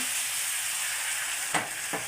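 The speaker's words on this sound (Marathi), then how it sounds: "घावना असा घालून घ्यायचा आहे" Rice flour ghavane batter sizzles and hisses steadily on a hot non-stick pan, a close, bright frying sound with a couple of brief scraping stirs near the end.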